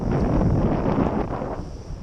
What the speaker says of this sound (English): Pretty good wind going, don't we?